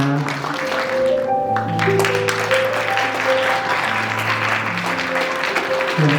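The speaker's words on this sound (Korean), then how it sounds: "큰 박수 부탁드리겠습니다." A wedding crowd claps steadily and warmly for several seconds while gentle music plays underneath.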